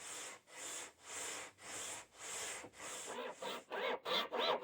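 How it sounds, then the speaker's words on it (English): Rhythmic back-and-forth scraping of a sandpaper disc, taken off a sander and used by hand, across a guitar body, with steady repeated strokes that quicken and shorten toward the end, close and moderately loud. "The discs off the sander, sandpaper stuck on here."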